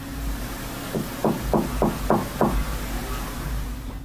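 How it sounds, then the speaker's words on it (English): A painted-over door behind a bed is knocked on with a run of about six evenly spaced, firm raps, close by, over a low steady hum. "The knocking sounds polite yet urgent, definitely human."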